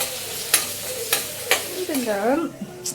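Onions sauté in a pan with a close sizzle, punctuated by several sharp spatula taps and a brief voiced sound near the end.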